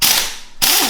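An impact gun working on a wheel's lug nuts on a Mustang GT350R, two short loud rattling bursts separated by a brief pause.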